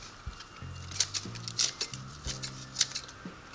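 Romaine lettuce cut into bite-size pieces produces a quick run of crisp, crunchy slicing and snipping sounds, close and fairly soft, with a few low knocks against the board.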